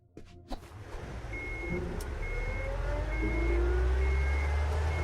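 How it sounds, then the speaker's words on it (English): A truck in the video game Unmetal starts its engine with a clunk and rumbles into a low, steadily building drone as it pulls away, while a regular beeping tone repeats over the motor. "Crap, they started the engine."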